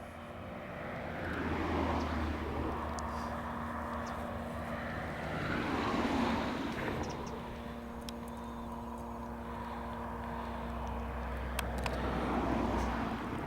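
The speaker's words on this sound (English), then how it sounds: "You can hear the cars on the road" Steady traffic drone from cars on a nearby road in the Cornish countryside near St Mawes and St Just in Roseland, a continuous low rumble heard from a footpath by a stile, moderately distant and swelling slightly as vehicles pass.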